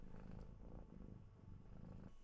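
A cat purring continuously and close by, a steady low rumbling vibration with a soft rhythmic pulse, quiet and alone.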